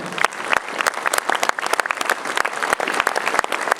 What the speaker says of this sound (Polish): Oczywiście te oklaski również należą się naszym solistom.